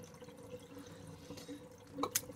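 Water trickles and drips as it drains from a kitchen sink being unclogged with baking soda and vinegar, a faint steady flow ending in a couple of brighter drips near the end.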